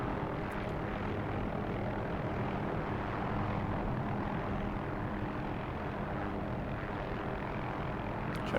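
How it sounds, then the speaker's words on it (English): An OH-6 light helicopter flying in the DCS combat flight simulator on a foggy morning map, heard as a steady, dense engine and rotor drone that holds at an even level for the whole stretch. "I haven't flown helicopters in DCS in probably a couple months"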